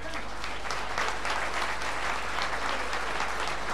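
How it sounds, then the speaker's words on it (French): Steady applause from a crowd at a Hotline Miami event at the Stunfest 2014 gaming festival, dense clapping that holds at a constant level throughout without breaks. "vous pouvez applaudir Cannes."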